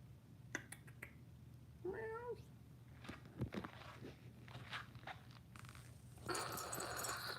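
A cat meows once at close range, a short wavering call, with light footsteps and shuffling around it in a quiet indoor space at a small family drop zone.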